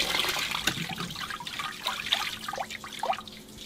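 Running water pouring and splashing as bloody foam is rinsed off raw cowhide in a home kitchen, with a steady close wash and occasional clatter, no talk.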